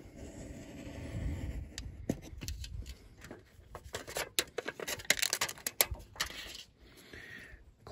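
Scissors snip through a piece of aluminum can, giving a run of crisp, metallic crunches and clicks that come close and fairly loud, bunched irregularly toward the middle and end.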